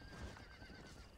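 Horse in the Red Dead Redemption video game neighing with a whinny while hooves clip-clop beneath it, a short close burst over steady game ambience.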